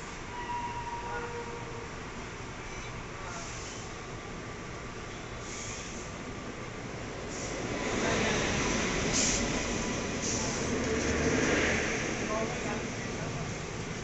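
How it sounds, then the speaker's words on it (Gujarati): A mail train passes at Bandra station, its rumble and clatter growing louder midway under a steady platform ambience, with faint squeals and people talking nearby. "કઈ લો મેલ ટ્રેન આવે છે હમણાં જોઈને કહીએ."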